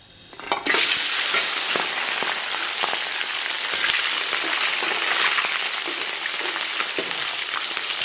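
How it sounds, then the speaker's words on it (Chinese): Scallion, ginger and garlic drop into hot oil in a wok with a sudden loud hiss, which settles into a dense, continuous sizzle with faint crackles. No one speaks. "油温6成热，咱们把葱姜蒜给它下里边"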